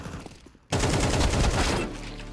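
A sudden burst of rapid, loud gunfire erupts after a brief quiet moment, sounding like automatic weapons fire in the game Counter-Strike 2.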